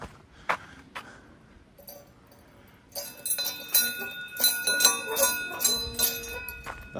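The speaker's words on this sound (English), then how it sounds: "Should we ring the bear bell?" Bear bell rung on the Nakasendo hiking trail in Japan: a few isolated metallic dings at first, then a rapid run of bright, overlapping ringing strikes at close range, with no talk over them.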